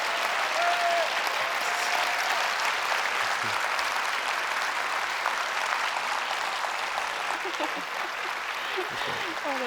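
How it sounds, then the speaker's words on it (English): Sustained, steady applause from a conference audience for the opening keynote speaker, loud and even across the whole stretch, with a few faint voices and whistles mixed in. "I think another round of applause for Frank,"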